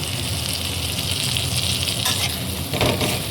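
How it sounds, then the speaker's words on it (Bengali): Eggplant fries in oil with salt, a steady, close sizzle with a brief rougher burst near the end as the pieces are moved. "এবার বেগুনটা ভেজে নেব।"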